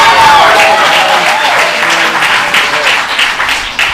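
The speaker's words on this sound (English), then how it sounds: "one more round of applause for the tech team up there" Round of applause from an improv theater audience for the tech team, loud dense clapping that thins slightly toward the end.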